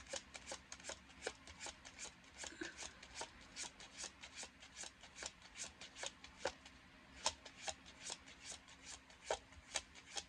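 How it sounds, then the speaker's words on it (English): Tarot cards get shuffled by hand up close, in a quick run of crisp riffling flicks that come in short regular bursts, fairly quiet and without any talking. "Let's shuffle this section here."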